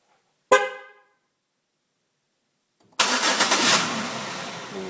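A 2005 Chevrolet Malibu triggered by remote start gives a short horn chirp, then after a pause its engine cranks and catches, settling into a loud, steady idle close by.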